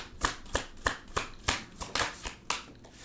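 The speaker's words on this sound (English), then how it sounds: "I'm just pushing those cards up a little bit more. These are bigger cards than the normal tarot." Large tarot cards, bigger than standard, are shuffled by hand in about ten crisp, evenly spaced riffles and slaps, close and fairly quiet with no talking.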